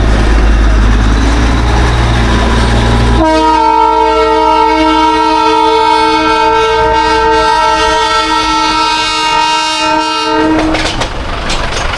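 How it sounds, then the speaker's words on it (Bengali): Darjeeling toy train sounding a long, loud, steady multi-tone horn blast that lasts several seconds, set against rumbling engine and rail noise before and after, heard close up without speech. "টয় ট্রেন আর টয় ট্রেন, কি সুন্দর লাগছে"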